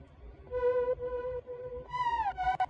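A dry Diva software synth line with no amp, chorus or spring reverb, sustained bright tones stepping through a few held notes and a downward glide near the end, alone and moderately loud.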